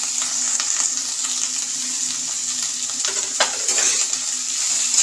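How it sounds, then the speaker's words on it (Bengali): Chopped vegetables and beans for fried rice sizzle steadily in a hot pan while a spatula stirs and scrapes through them, close and fairly loud, with no voices. "এবার সব সবজিগুলোকে আমি ভালো করে নেড়ে নেব।"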